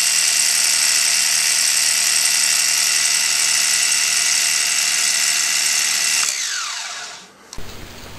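Grizzly G0704 milling machine after a gear mod, spinning at 4700 rpm with a loud steady high whine, which then winds down and stops near the end.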